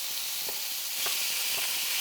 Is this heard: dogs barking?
no